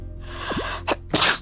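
A single close sneeze: a quick rising intake of breath followed by a sharp, explosive burst, with a smaller puff just before it.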